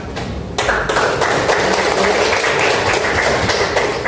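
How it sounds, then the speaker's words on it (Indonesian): A class of children in an Islamic religious education lesson claps for a pupil who answered, loud, steady, dense clapping filling the room throughout. "tepuk tangan buat anak"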